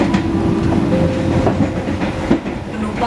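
KA Gumarang passenger train travelling from Surabaya to Jakarta, heard from inside: a steady, loud rumble of rolling wagons with rhythmic clickety-clack from the wheels on the rail joints and a brief clunk near the end, with no voices.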